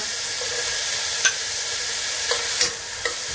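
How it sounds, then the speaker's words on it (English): Garlic and ginger stir-frying in a pan, a steady close sizzle with a few sharp scrapes and clicks of a utensil stirring, no voices. "I'm going to stir fry this for the next three minutes, three to four minutes."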